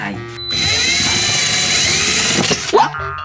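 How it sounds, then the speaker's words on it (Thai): A handheld power drill bores into a built-in cabinet for storing cream, its steady high whine running loud and close for about two seconds before cutting out, followed by a brief clunk of handling. "เราจะเจาะตู้วิวอินด้วยตัวเอง"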